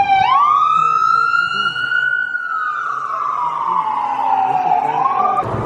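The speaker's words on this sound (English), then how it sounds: "Every time he sees sirens, especially if we're out of state, he takes pictures of them." An emergency vehicle siren wails loudly and close on a Boston street, sweeping up and then slowly gliding down in one long, piercing tone over faint traffic.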